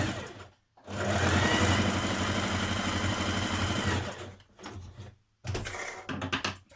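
A home sewing machine runs steadily for about three seconds, stitching a 1.5 cm seam to join maxi skirt panels, then stops and gives two shorter bursts, close and clear with no talking.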